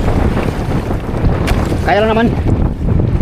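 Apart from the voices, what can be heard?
strong wind at sea on a fishing boat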